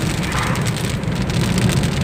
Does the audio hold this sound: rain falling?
yes